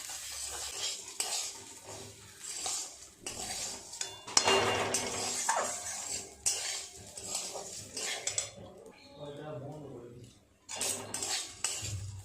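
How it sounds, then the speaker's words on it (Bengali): Raw rice is dry-fried in a pan for several minutes while a spoon scrapes and stirs it, giving repeated rasping strokes with light clinks and a soft sizzle, with brief pauses between stirs. "বেশ কিছুটা সময় নিয়ে 4-5 মিনিট মতো সময় নিয়ে চালটাকে এইভাবে নেড়ে চেড়ে ভেজে নিলাম"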